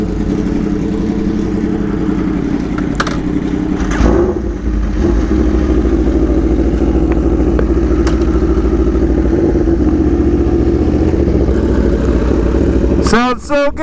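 An Aprilia Tuono V4 Factory and other superbikes, a Yamaha R1 and BMW S1000RR and M1000RR, drone loudly and steadily on a group ride under constant wind rush, with a brief sharp rev burst at the end.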